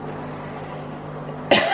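A single sharp cough bursts out near the end, close and loud, after a stretch of steady low household hum; it comes from someone fighting a lingering cold.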